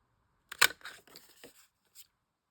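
A few sharp mechanical clicks and crunches of a 1.5 inch circle paper punch cutting a notch through card, close up, with a softer click a moment later and no talking.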